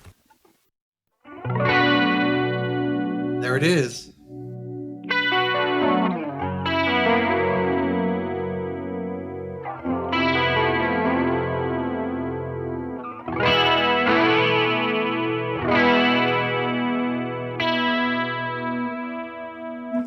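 An electric guitar played through a Roland CE-1 chorus pedal, notes and chords shimmering and wobbling, with a short spoken phrase near the start.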